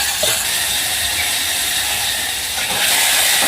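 Tomatoes and curry leaves frying with garlic in a pan for a North Karnataka sambar: a loud, close, continuous sizzling hiss that holds steady throughout, with no talk.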